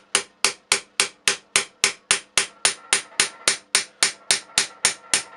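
A hammer strikes sheet metal in gentle, evenly spaced blows while forming a rolled hinge edge, about twenty close, sharp taps in a steady rhythm.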